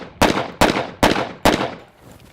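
Four loud, sharp pistol shots from a double-barrel pistol crack in an even rhythm, close to the listener, each followed by a short ringing decay.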